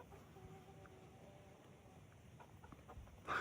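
Soft hen clucks and murmurs scattered over a quiet farmyard background, fairly faint, with a louder burst at the very end.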